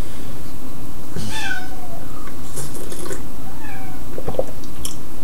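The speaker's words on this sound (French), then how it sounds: "ma chatte elle miaule vraiment beaucoup ce soir" Domestic cat meowing repeatedly indoors in the evening, several drawn-out mews spaced over a few seconds against a noisy, fairly loud background.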